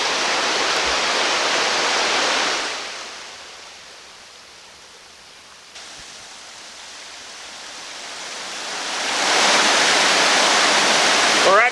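Green Falls, a waterfall near Russell Pond, rushes with a loud broadband roar that dips to a fainter wash midway, then surges loud again.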